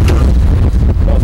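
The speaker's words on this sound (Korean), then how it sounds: "강한 바람이 작업자들을 가로막는다." Strong wind buffeting the outside of a high-rise building during facade cleaning, a loud, close, rumbling roar with gusty low-frequency buffeting.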